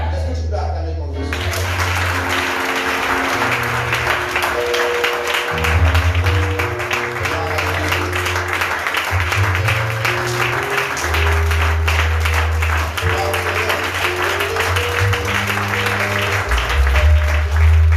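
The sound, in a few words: congregation applauding and cheering in church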